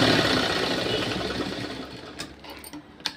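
A sewing machine stitching a folded quarter-inch blouse hem runs in one continuous close whirr that slows and fades, ending in a few faint clicks.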